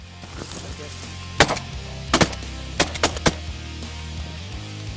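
Shotguns fire during a coastal duck hunt: about half a dozen sharp, loud reports come in scattered bursts, some in quick pairs, over a low outdoor rumble.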